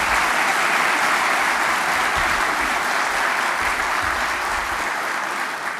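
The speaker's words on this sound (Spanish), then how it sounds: "démosle un abrazo y un aplauso desde la distancia" Sustained audience applause fills a public accountability event in a hall, a dense, steady wash of many hands clapping close and loud for the full stretch, fading slightly at the end.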